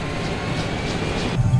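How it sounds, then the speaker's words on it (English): A helicopter taxis in Microsoft Flight Simulator 2024, giving a steady whining engine drone with a soft rhythmic pulse of rotor beats, then a heavier low thump near the end. "our helicopter is currently taxiing to position for the upcoming takeoff"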